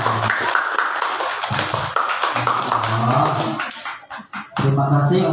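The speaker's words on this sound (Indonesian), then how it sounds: "Baik, tepuk tangan untuk Alifah." At a school Quran memorization event, an audience claps for a student reciter, with close, uneven sharp claps and some voices and noise mixed in before a short dip near the end.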